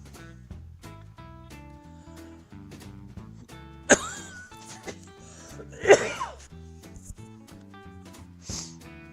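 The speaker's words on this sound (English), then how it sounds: "I stuck my hand between the microphone and my mouth when I coughed." Two sharp, loud coughs, partly muffled by a hand, break out close up over a background of soft, steady music, with a smaller throat noise near the end.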